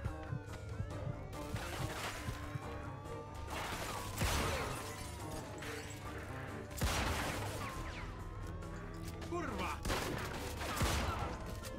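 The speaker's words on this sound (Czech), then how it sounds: "Dobré, Magnum je dobrý. Střílí na dálku." Magnum pistol gunfire in the video game Mafia II Definitive Edition, with repeated loud shots and crashing impacts over a busy, dense game soundtrack.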